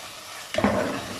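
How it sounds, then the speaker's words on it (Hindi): Beef karahi masala frying in a wok: a moment of quiet, then a sudden close burst of stirring and hissing sizzle that carries on steadily to the end, with no talk. "2 से 3 मिनट हो चुके हैं कढ़ाई मसाला डाल के भूनते हुए"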